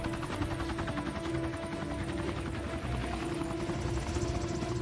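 A helicopter in flight during a Captain America: Civil War action scene gives a steady, dense rotor drone with rapid chopping pulses, continuous and fairly loud throughout.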